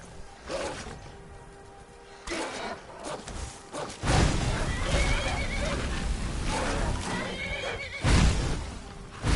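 A horse in the video game Skyrim gives a loud neigh early on, followed by dense game sounds with hoof clip-clop and swishes, with speech intermittently present over the top.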